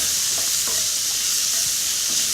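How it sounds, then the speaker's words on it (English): Beans sautéing in a pan, a steady close sizzle with soft stirring scrapes and clinks through the whole stretch, no voices. "we're just sauteing this down a little bit, bringing out the flavors, letting it caramelize a touch"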